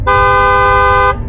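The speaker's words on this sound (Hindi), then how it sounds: "तभी बस वाले अपने बस का हॉर्न बजाता है" A cartoon bus horn sounds once, a loud sustained honk of about one second with bright, steady tones, then cuts off abruptly.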